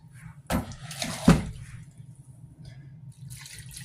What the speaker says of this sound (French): il faut ajouter de l'eau, mais pas beaucoup, dans le blender